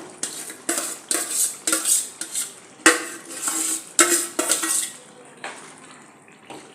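A spoon stirs mashed vegetables into pav bhaji in a pan, a rhythmic run of scraping, clattering strokes that is close and fairly loud, then slows and softens, with no talking.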